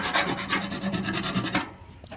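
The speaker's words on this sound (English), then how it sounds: "turn the file a little at a time to hit all the angles" A metal file rasps against an old metal tool box in quick, rhythmic back-and-forth strokes, about half a dozen, close up, then stops abruptly.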